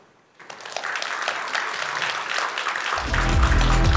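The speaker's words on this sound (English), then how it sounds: "Applause to the speaker." Audience applause for a speaker at a science conference main stage, starting after a brief quiet moment and building into steady clapping, joined near the end by a low rumbling swell of music.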